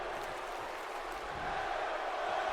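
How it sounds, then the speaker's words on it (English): Wrestling video game arena crowd in WWE 2K18 cheering, a broad steady roar of many voices that swells slightly toward the end, heard faintly at a distance. "And this crowd now is cheering Bryan on towards victory."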